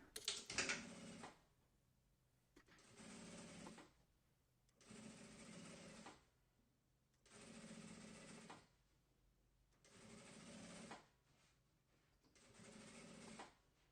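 A sewing machine runs in five even bursts of rapid stitching, each about two seconds long with short pauses between, as it sews zipper tape along piping for a throw pillow, close and quiet with no talk.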